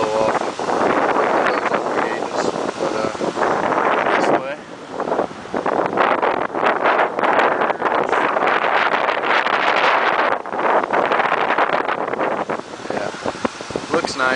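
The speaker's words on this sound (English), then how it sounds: "Hopefully you can hear me because it's windy as hell up here." Heavy wind buffets the microphone in a loud, continuous rumble with brief dips, and a voice speaks through the roar.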